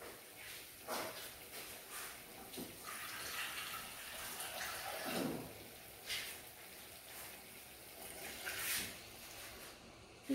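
Water poured into a pan of stuffed potato curry, a soft continuous splashing and trickling, fairly faint and heard alone without talk.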